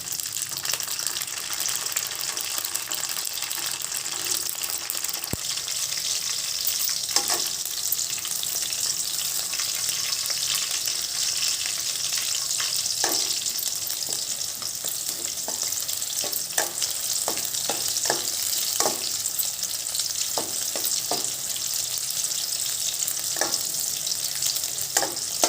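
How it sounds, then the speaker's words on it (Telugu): Green chillies sizzle and fry steadily in a hot pan, a continuous bright crackle with occasional stirring scrapes, close and alone without talk. "ఈ పచ్చిమిర్చి కొద్దిగా రంగు మారేంత వరకు వేయించుకోండి."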